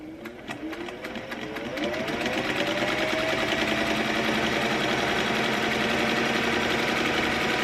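A sewing machine stitching homemade bias tape onto a fabric mask, starting slowly and then running up to a fast, steady mechanical whir with a rapid needle clatter, close and clear.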